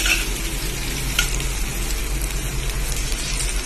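Ginger and spices frying in a pan, a loud, continuous close sizzle with faint stirring scrapes underneath, no voices.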